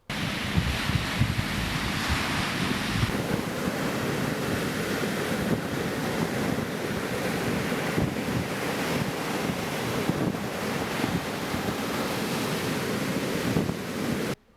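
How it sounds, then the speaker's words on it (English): Atlantic Ocean surf breaking on the shore at Badagry, a steady broadband wash of waves with wind buffeting the microphone throughout, loud and continuous with no voices. "A few meters away, the Atlantic was making a noise of his presence."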